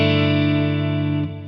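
A sustained clean electric guitar chord through a modeled Fender Twin Reverb amp with reverb and delay rings out with shimmering reverb, then is damped and cut off near the end.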